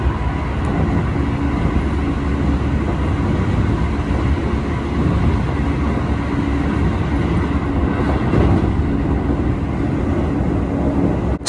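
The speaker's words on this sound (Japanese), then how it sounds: "列車ね、今ね、平山城址公園南平間を走行中なんですがね、いや、これすごい思いっきりかっ飛ばしてますよ。" Heard from aboard an eight-car Keio 8000 series express with PMSM motors at near its 110 km/h top speed, a loud, unbroken rumble of wheels and motors with faint rhythmic rail clatter and no talking.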